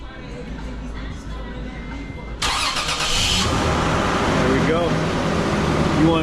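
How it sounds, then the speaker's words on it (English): A car's engine starts by Viper remote start partway through, shifting a quiet background into a louder, brighter steady running hum that continues close by, with a few faint clicks. "You hit this button one time, turns on the car."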